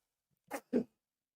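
Two short, sharp bursts close together, like a quick double sneeze, near and fairly soft.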